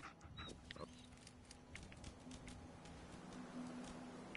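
Dogmeat, the dog companion in Fallout 4, gives soft, faint canine panting and small whimpering noises over a low game ambience hum.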